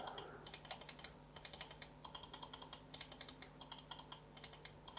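Rapid, crisp plastic clicks from a Cooler Master MM730 mouse's semi-hard main buttons tap out in quick bursts close to the microphone, pausing briefly between runs over a faint steady hum.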